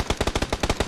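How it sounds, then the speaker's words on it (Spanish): Rapid automatic gunfire from the PUBG battle royale on the Sanhok map: a tight string of about nine evenly spaced shots in one second, sharp and close, with no voices over it. "¡Disparos!"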